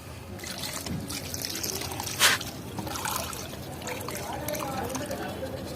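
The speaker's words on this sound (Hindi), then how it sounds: "और ये पानी जो है एंजाइम का, वो हम इसके अंदर देंगे" Enzyme water trickles and pours into a plant fertilizer mix, a soft liquid splash and dribble beneath a speaking voice, with one brief louder splash midway.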